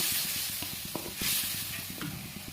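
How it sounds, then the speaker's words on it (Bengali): Spice masala with chili and salt being fried and stirred in a pan, a close hissing sizzle broken by quick rhythmic scraping strokes of the spatula. "মশলাটা একসাথে ভেজে ভালো করে কষিয়ে একটু জল দিয়ে দিলাম"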